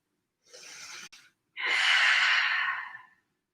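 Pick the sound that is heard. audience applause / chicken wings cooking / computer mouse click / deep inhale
deep inhale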